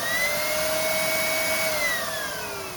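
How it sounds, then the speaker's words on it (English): A Porsche 993 secondary air injection pump runs on a bench test, a loud close electric whine like a vacuum cleaner or hair dryer, holding a steady pitch then dropping slightly as it winds down near the end, with no talk. "this is just the secondary air injection pump"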